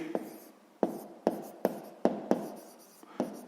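Handwriting for a sixth-grade maths exercise: a pen or chalk taps down in about eight sharp strokes at an uneven pace, each followed by a brief scratchy drag, heard close with no talk.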